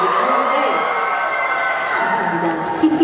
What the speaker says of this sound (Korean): 환호하시는 거예요? 아쉬워하시는 거예요?